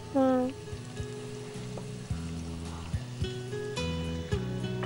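Green chillies sizzle and fry in a hot pan, a steady close crackle with a few stirring scrapes and a sharp burst at the start.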